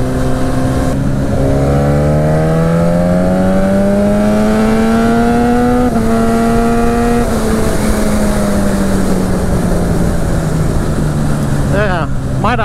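A parts-bin motorcycle engine revving while riding, loud and continuous, its pitch climbing and falling as the throttle opens and gear changes come through, with wind rush throughout.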